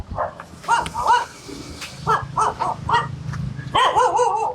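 Several sharp dog barks come in short bursts, some in quick pairs, with a final longer yelping series near the end, over faint outdoor background noise.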